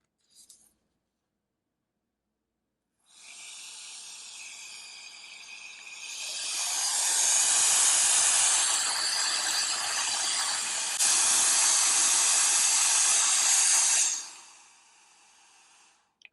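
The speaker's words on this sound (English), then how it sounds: "There's quite a bit of air coming out there." A Roedix R8 electric air duster blows through a very small nozzle, a close, steady high-pitched hiss that swells partway through and then cuts off.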